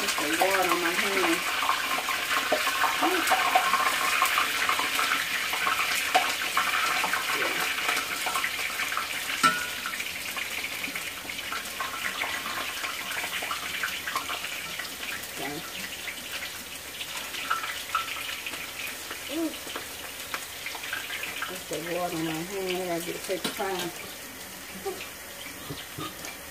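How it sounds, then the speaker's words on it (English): A kitchen tap runs steadily and fairly loudly while hot water cornbread is being made, with people talking now and then over the continuous stream of water. "Put the water on my hand."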